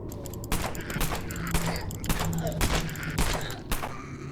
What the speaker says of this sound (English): Now we are still using the same pistol, which is the Goering HP